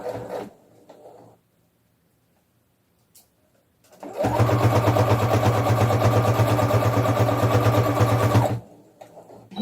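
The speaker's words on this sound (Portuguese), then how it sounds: "uma ajudinha na máquina vai fazer com que a costura corra melhor" A sewing machine runs at a steady fast pace stitching soft, fluffy fabric for a rag doll's pajamas, a continuous close whirring rattle lasting about four seconds after a quiet pause, with no talking.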